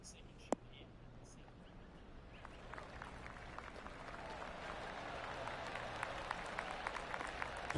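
Quiet golf clap from a gallery in the PGA 2K23 video game, soft scattered claps that start thin after a sharp tick and slowly grow into a steady patter, with faint murmuring.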